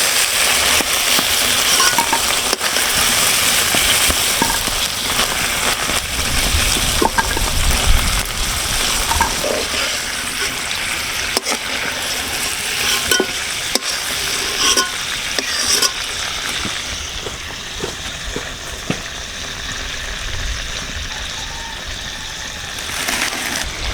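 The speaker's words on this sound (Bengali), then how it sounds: "চিংড়ি মাছটা সুন্দর করে ভেজে নিয়েছি, এখন তেল ছাড়িয়ে উঠিয়ে নেব।" Prawns fry in hot oil for a Bengali prawn malaikari, a loud, continuous sizzle with bubbling and occasional stirring scrapes, close up and steady throughout.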